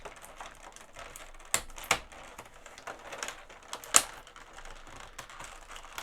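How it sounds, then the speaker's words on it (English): Tape is peeled off a plastic clamshell package: a faint, steady crackle broken by a few sharp snaps and ticks, close up and without talk. "I'm just releasing the tape on the clamshell."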